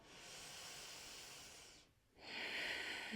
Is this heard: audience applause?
no